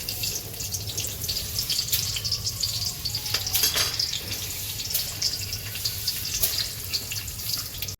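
Oil heats in a kadai for a tempering in spicy tomato chutney, giving a soft, steady sizzle with faint crackles and occasional light metallic clinks, alone with no talk.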